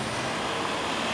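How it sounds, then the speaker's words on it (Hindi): A car on a road comes to a stop, a short burst of broadband road and engine noise with a steady rumble, fairly loud and without talk. "एक मिनट पूर्वी, गाड़ी रोको।"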